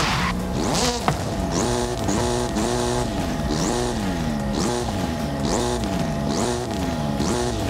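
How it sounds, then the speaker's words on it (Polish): A car's turbo whistles and flutters in Forza Horizon 5, rising and falling in a repeated rhythm over a steady engine drone as the car accelerates and shifts. "Taki dźwięk turbinki śmieszny."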